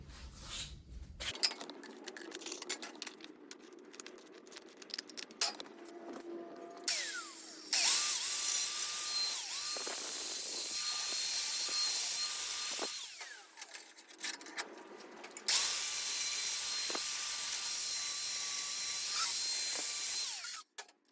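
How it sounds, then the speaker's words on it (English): Steel pipe being deburred for a froe blade with a power tool: long, loud whining grinding passes separated by quieter gaps and small workshop clatter. "I think I'll just deburr this pipe here"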